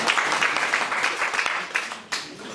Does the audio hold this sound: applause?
yes